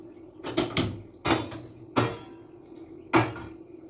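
A cooking pot for green chicken gravy is handled on a stove, giving five or six close, sharp metallic clanks and knocks at irregular intervals with quiet gaps between them.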